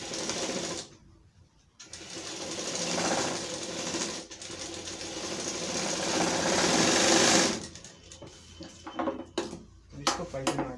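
An electric sewing machine runs in loud continuous bursts while stitching the sleeve and side panel seams of a kalidar jubba. Long whirring runs are broken by short pauses, and shorter stop-start stitching comes near the end.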